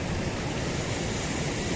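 Sea waves wash onto the shore at night during a fishing outing, a steady close hiss of surf with no voices.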